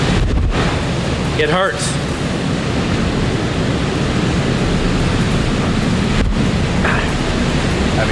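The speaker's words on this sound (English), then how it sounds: "when you are pelted by those driven rains, it does sting" Hurricane-force wind and driven rain roar as a loud, unbroken broadband wash in Panama City Beach, with a brief voice cutting through the storm noise.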